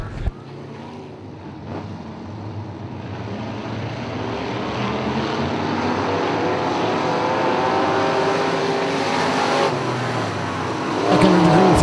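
Race cars roar around a track during a feature race restarting under the green flag. A continuous, loud engine drone swells as the pack passes, with a sharper burst near the end.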